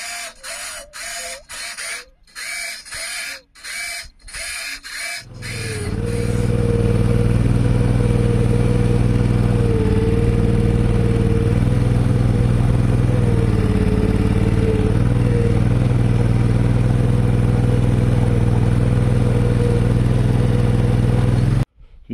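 A small garden tractor steered by an electric joystick and servos: first a few seconds of rapid clicking and clattering mechanism, then the engine starts and runs loud and steady nearby, its pitch shifting slightly as it drives.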